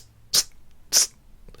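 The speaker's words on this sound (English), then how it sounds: "he does sneeze like a kitten" A man sneezes twice in quick succession, two short, light, high-pitched bursts about half a second apart, close by with no talking.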